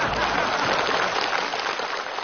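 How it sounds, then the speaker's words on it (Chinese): Audience applause on a children's stage show, a dense, steady wash of clapping filling the whole moment without pause. "掌声欢送二号"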